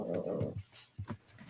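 A dog whimpers and pants close by in short, soft bursts, several quick breathy sounds and a higher whine, faint and alone with no talk.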